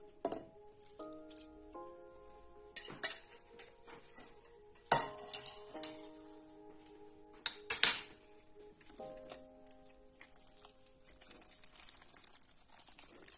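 Metal utensils clink against a pot and bowl while broth is mixed into a shrimp açorda, with several sharp scrapes and knocks spaced apart over a quiet kitchen background.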